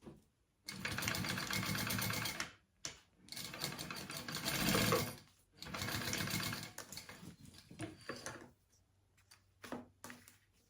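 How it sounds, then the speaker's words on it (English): Fabric is basted on a sewing machine for a Lesiah mini backpack: several close, rapid whirring runs of stitching, each lasting a couple of seconds, separated by short pauses and small mechanical clicks. "And I am going to baste that down first on that piece."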